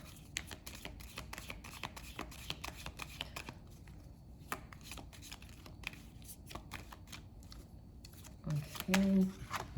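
Tarot cards being shuffled on a table, a dense run of quick soft riffling clicks and taps, followed near the end by a short low hum of a voice.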